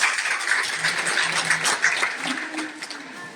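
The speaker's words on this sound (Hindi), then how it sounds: "जोरदार तालियां हो जाए" Audience applause at an education foundation's launch event, a broad steady wash of clapping heard throughout, moderately loud and even, with a faint murmur of voices beneath it that fades slightly toward the end.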